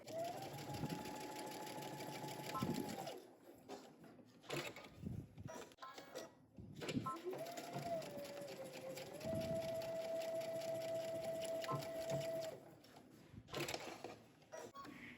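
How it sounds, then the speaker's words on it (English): A sewing machine stitching the shoulder seams of denim jumpsuit facings with a 5/8 inch seam allowance. The motor gives two sustained whirring runs separated by short pauses and handling noises, recorded close up. "go ahead and stitch your shoulders of the facings together using 5/8 of an inch seam allowance"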